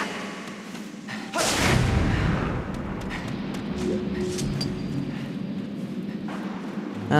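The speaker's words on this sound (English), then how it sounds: "And all these bombs are gonna explode soon." Bombs blowing up in the video game Zelda: Skyward Sword, a loud sudden blast that rings into a sustained rumbling roar lasting several seconds, with a low boom near the end.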